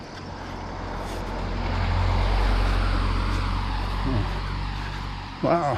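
A car drives past on a road during a walk up a steep hill, a broad rumbling swell that rises and fades under light footsteps and faint background noise.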